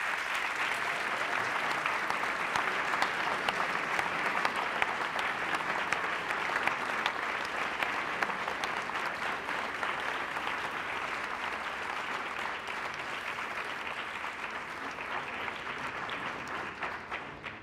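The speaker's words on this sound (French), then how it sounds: "je vous propose, pendant qu'on prend la photo, de les applaudir une autre fois" An audience at a school prize ceremony applauds the award winners during a group photo, a long, even wash of clapping heard from a moderate distance that runs steadily throughout.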